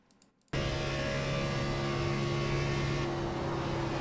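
A NASCAR Xfinity race car engine in iRacing at Chicagoland roars steadily at full throttle after a brief quiet start, a loud continuous drone with a constant tone.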